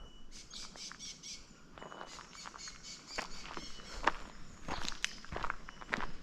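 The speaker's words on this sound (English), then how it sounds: "Sounds like the birds are waking up more." Small birds chirp and call repeatedly in a quiet morning outdoor setting, with soft footsteps and rustling close by.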